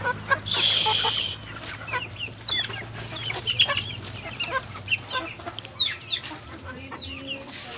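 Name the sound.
chickens clucking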